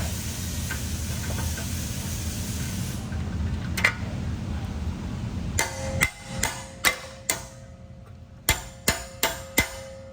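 Sharp metallic hammer blows ring out in a spaced series of about eight strikes, hammering out a stuck socket, following a stretch of steady hissing noise.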